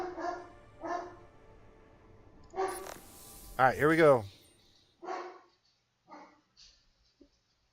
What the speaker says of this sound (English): Yeah, angry doggo. My dog is annoying sometimes.